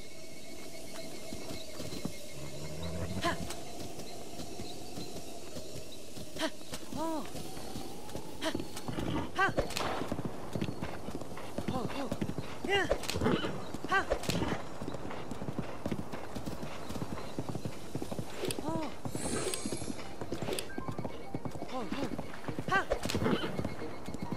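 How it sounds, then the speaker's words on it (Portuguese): A wild horse in the video game The Legend of Zelda: Breath of the Wild, heard as a steady clip-clop of hooves throughout with a whinny, while someone talks over it. "vamos andar aqui de cavalo um bocadinho"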